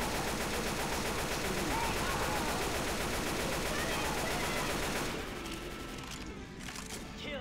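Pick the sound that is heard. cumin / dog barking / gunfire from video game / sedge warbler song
gunfire from video game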